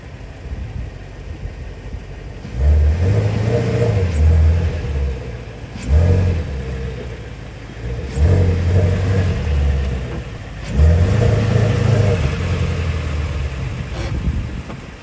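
A Ford Shelby GT350 creeps up onto a U-Haul trailer on homemade ramps, its engine idling low and rumbling, then blipping in four short revving surges with pauses between.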